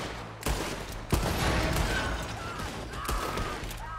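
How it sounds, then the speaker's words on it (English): Gunfire in Red Dead Redemption 2, a sustained fusillade of overlapping shots with sharp cracks near the start, heard at moderate distance under background game noise. "Holy shit, we're shooting."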